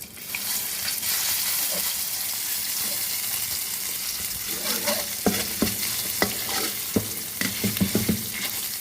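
Panang curry paste fries in oil over low heat while a spatula stirs and presses it. A soft, steady sizzle builds into a run of sharp scraping and clacking strokes toward the end.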